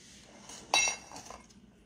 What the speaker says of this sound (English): So I'm going to put mine in a casserole dish